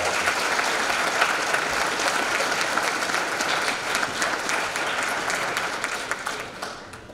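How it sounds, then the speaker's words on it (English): A school assembly audience applauds the student video producers: a full, dense round of clapping from a large crowd, steady for several seconds before tapering off, fairly loud and close. "I do want to give a round of applause to those guys because they did a phenomenal job"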